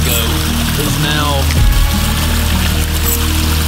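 Floodwater from a swollen creek rushes and pours loudly and steadily up close, a broad churning wash with a heavier surge partway through and brief talk over it.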